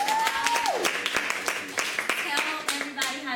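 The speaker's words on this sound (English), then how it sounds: "y'all give a round of applause" A small group claps in a round of applause for a guest on a business talk show, sharp individual claps at moderate loudness, with a brief tonal sweep early and voices mixed in.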